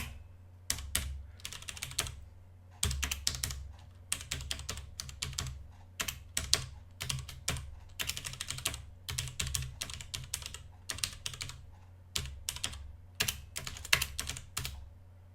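Computer keyboard typing a command, bursts of rapid close key clicks separated by short pauses, steady and clear with no voice over it.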